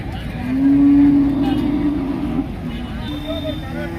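A cow gives one long, loud moo amid the cattle at the Manapparai cow market, where Jallikattu bulls and native cattle are tied up, with crowd voices and vehicle noise behind it.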